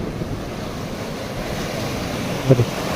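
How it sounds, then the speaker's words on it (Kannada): Rough waves of the Arabian Sea wash against a rocky shore with a loud, constant roar and wind buffeting the microphone, ending in a couple of low thumps. "ಕಡಲು ಕೂಡ ರಫ್ ಇದ್ದ ಕಾರಣ"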